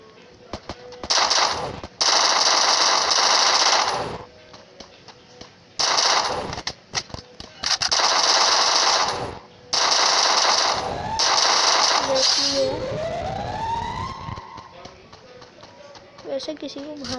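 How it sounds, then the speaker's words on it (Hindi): Rapid bursts of automatic gunfire in the Free Fire battle-royale game, several loud sustained volleys separated by short gaps, with a person talking over and between the shots. "सामने की तरफ में बंदे ने फायरिंग की"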